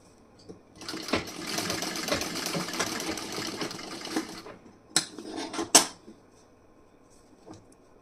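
A sewing machine stitching blouse fabric runs in a quick rattling burst for several seconds, pauses, then gives a couple of short whirring runs, heard fairly close with no talk.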